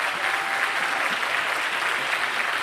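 An audience at a presidential candidate environmental forum in South Carolina applauds frontline activists, with steady dense clapping from a large crowd filling the whole stretch at an even level.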